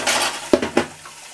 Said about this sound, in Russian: надо, знаете, что мне тут посуду помыть.